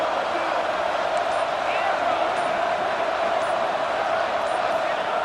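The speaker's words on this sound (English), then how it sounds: "the crowd really making some noise now" Stadium crowd in a college football video game, Stanford versus Kansas State, roars near a goal-line defensive stand as a dense, steady wash of cheering that never lets up.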